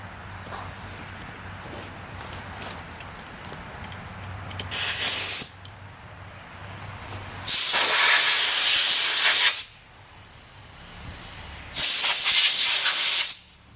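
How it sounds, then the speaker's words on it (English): A compressed air gun blows debris out of a go-kart, three loud, close hissing blasts of one to two seconds each separated by quieter pauses; a dog barks faintly in the background. "I'm gonna grab my air gun there and blow that out real quick."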